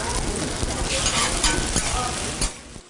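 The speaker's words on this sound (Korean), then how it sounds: "노란 계란물을 묻힌 재료를 철판 위에 올려 앞뒤로 뒤집습니다. 기름이 지글지글 끓다 보면" Korean jeon, egg-battered ingredients on a griddle in a traditional market, frying in bubbling oil with a dense, continuous sizzle and crackle close by.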